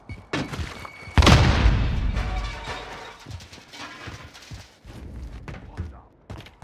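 A grenade blasts with a sharp, heavy boom in Modern Warfare multiplayer, its rumble trailing off while footsteps, scattered shots and brief game voice callouts continue around it.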